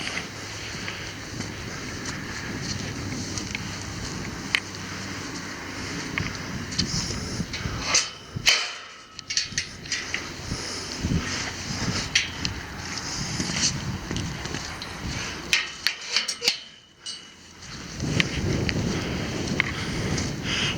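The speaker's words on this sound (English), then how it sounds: "That wind is picking up, that storm" Strong gusty wind ahead of a storm roars and buffets the microphone for a long stretch, dropping briefly twice before surging again.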